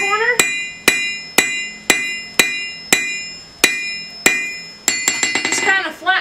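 Hot steel struck on an anvil while scarfing a bar end for a forge weld: about ten loud, evenly spaced ringing hammer blows, then a quick flurry of lighter rapid strikes at the end.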